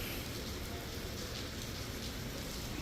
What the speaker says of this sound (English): I'm so sick of this rain.